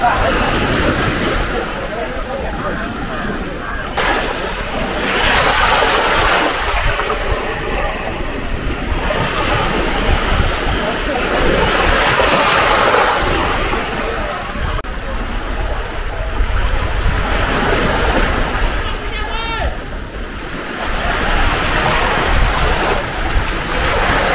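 Sea waves roll in at high tide on the beach at Mousuni Island, a loud, continuous wash of surf with rising and falling swells and wind, while people speak and bathe nearby.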